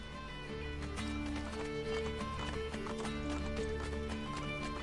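Horse hooves clip-clop steadily with an occasional neigh in Assassin's Creed Brotherhood, set against a continuous game soundtrack and ambient layer throughout.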